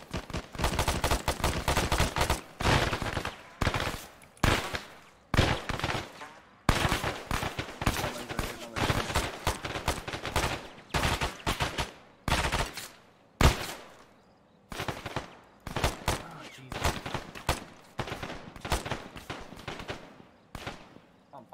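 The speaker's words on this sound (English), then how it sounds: "They're shooting from the mosque." Rapid bursts of gunfire in a video game battle erupt from a mosque, with repeated automatic volleys and single shots, loud and irregular throughout with brief gaps.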